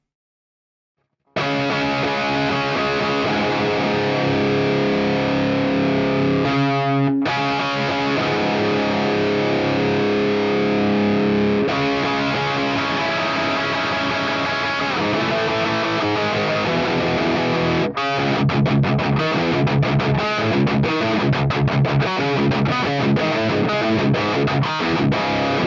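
A distorted electric guitar played through a Quad Cortex amp modeller rings out alone in sustained chords and riffs, with a brief pause and then faster chugging, choppy strumming near the end.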